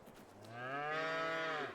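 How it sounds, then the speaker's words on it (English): Cows mooing in a pen in the farming video game Farming Simulator 22, one long, loud, drawn-out harmonic moo that swells and fades, heard alone without talk. "you can see right here, we have our cow pen"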